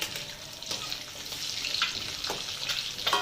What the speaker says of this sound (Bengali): সব ডিমগুলোকে আমি একবারে দিয়ে দিয়েছি কড়াইতে, দিয়ে এবারে ভেজে নেবো।